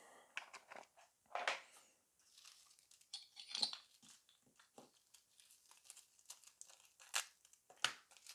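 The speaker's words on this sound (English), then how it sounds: "Got some transfer foil here. And I'm going to cut this piece." Transfer foil for nail art being cut, giving a run of light crinkling and crisp snipping bursts, close up and irregular, with no talking.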